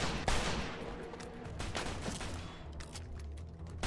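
Rapid gunfire bursts and shots ring out in a Mafia II firefight, with dense overlapping cracks and rumbling echoes continuing throughout, loud and close with no talking.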